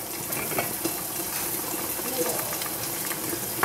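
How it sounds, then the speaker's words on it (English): A pot of water on the stove sits just short of a boil, with a soft bubbling and simmering hiss and occasional small pops, fairly faint and close. "almost boiling, just about to boil, and 1 millisecond. Close to boiling."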